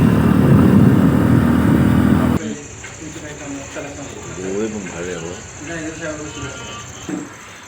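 A loud motorcycle engine drones for a couple of seconds while riding the Anuskura ghat mountain pass, then drops to a quieter engine hum under wind noise while someone talks.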